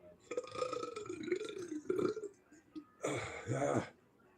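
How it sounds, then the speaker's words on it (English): A long, loud, deep burp rolls on for about two seconds, followed by a shorter second belch with a rougher, croaking tone. "That burp though"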